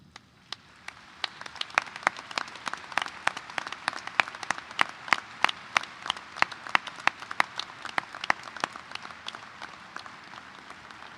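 Steady applause at a high school graduation ceremony as school district employees stand, with distinct individual claps ringing out through a continuous wash of crowd clapping from start to finish.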